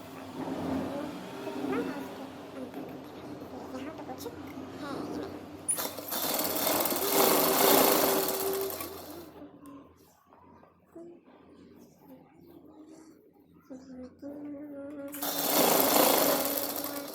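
A sewing machine stitches a cutwork design on a trouser in two loud, close bursts of rapid buzzing, separated by a quieter stretch. A voice speaks faintly in the background.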